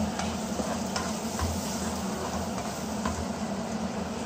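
Vegetables fry golden brown in a pan for a Filipino vegetable dish, giving a steady close sizzle with occasional stirring scrapes throughout.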